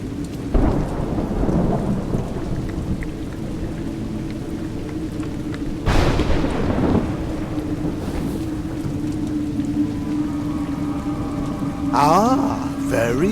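Steady rain pours throughout with thunder cracking around two and six seconds, in the stormy woodland of the game A Juggler's Tale; a deep rumble lingers and a brief sweeping tone rises near the end.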